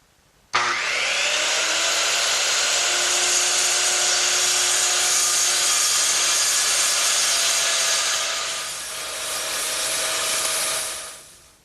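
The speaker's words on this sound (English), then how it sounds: "I'm going to use my circular saw to take out that material." A circular saw cuts through hardboard on a workbench: the blade spins up abruptly into a loud, steady, high whine that holds for about ten seconds, dips briefly under load, then winds down at the end.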